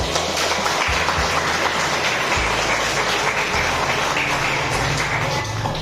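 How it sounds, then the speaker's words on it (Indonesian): Students in a history class clap together in dense, steady applause that fills the whole stretch at an even level, with no one talking over it. "Tepuk tangan."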